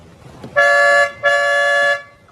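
A 2022 Škoda Kodiaq L&K 4x4's dual-tone horn honks twice, each a sustained blaring blast of about half a second, loud and close, with a brief gap between them.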